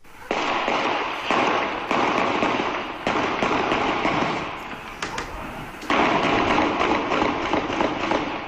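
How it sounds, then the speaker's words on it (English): Recorded gunfire in Watertown in the morning: rapid bursts of sharp cracking pops, loud and dense, rolling in clusters with brief gaps, like a rapid exchange of gunfire echoing nearby. "I just want to play a little bit of the gunshots that were heard in Watertown this morning."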